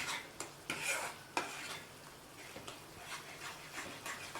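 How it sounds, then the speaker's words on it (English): Moong dal is stirred with sugar syrup in a pan: faint soft scraping and stirring strokes with a few light clinks of a spoon against the pan, set over a quiet background hiss. "immediately I'll just stir in the moong dal with sugar syrup"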